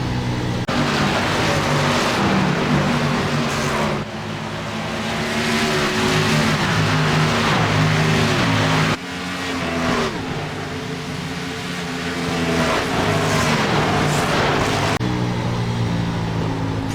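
NASCAR Xfinity Series race car engines roar in iRacing at Charlotte, a loud continuous drone of several cars running close together, pitch rising and falling through gear shifts with brief cuts in the sound.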